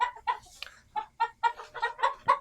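Egyptian Fayoumi chickens on a poultry farm cluck in short, repeated bursts, close and fairly clear, with no talking.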